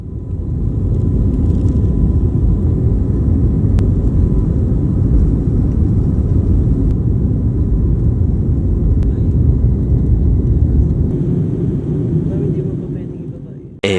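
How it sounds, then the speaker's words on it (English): Jet airliner engines roaring steadily as the plane accelerates down the runway for takeoff, a loud continuous low rumble heard from inside the cabin that holds for the whole run and fades near the end. "The plane accelerates down the runway"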